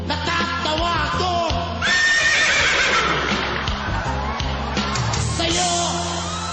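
On a Filipino talent-show stage, a man mimics a horse with his voice, delivering loud, wavering whinnies and neighs, with clip-clop-like vocal beats and a lively crowd behind the imitation.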